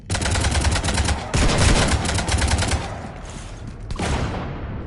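Rapid automatic gunfire from a fight aboard a ship in the game Mass Effect, loud dense bursts with brief pauses between strings of shots, close and dominant.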